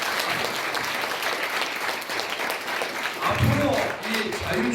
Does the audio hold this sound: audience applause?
yes